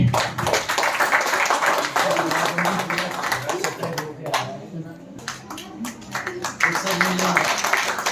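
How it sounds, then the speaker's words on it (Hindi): An audience at a World Book Day panel discussion clapping to honour guests, a fairly close, crackling patter of many hands that runs for several seconds, briefly dips in the middle, then picks up again, with voices heard among it. "आपकी तालियों की गड़गड़ाहट के बीच।"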